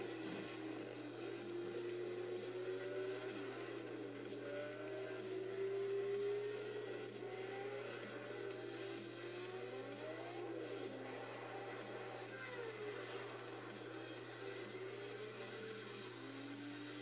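Sports cars racing in the Asphalt 6 intro, engines whining and rising and falling in pitch over a constant low hum, fairly faint and steady.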